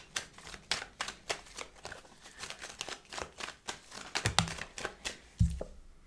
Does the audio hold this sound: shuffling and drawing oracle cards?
yes